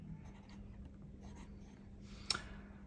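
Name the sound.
solid gold fountain pen nib writing on paper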